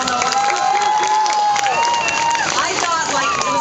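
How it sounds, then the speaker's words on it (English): An audience at a Walleye Weekend animal show breaks into sustained applause and cheering, dense and steady for the whole stretch, with scattered shouts rising above the clapping. "so give yourselves a round of applause"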